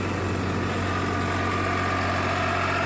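Steady idle of a Massey Ferguson 8055 Boss tractor engine in a village setting, a continuous even rumble with a mid-range mechanical hum, loud and close, with no voices.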